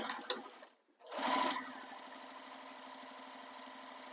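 Sewing machine top stitching across the top edge of a crossbody bag, opposite the opening, at a longer top-stitch length; a short burst, a brief pause, then a steady continuous mechanical whir running close and alone.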